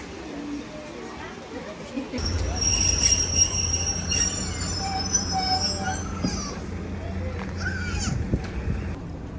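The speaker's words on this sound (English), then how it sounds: "This here is a DMU, a diesel multiple unit." A diesel multiple unit train on a heritage railway rumbles past close by with squealing wheels and a steady engine drone, metallic screeches rising over the rolling noise.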